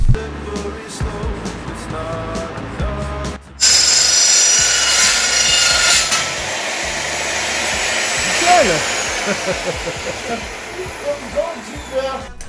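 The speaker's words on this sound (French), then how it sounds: "on va pouvoir tout couper et tout souder" A power tool cuts metal for a gate frame, a loud, steady, high whine that starts abruptly a few seconds in and runs to the end, with talk and workshop clatter before it.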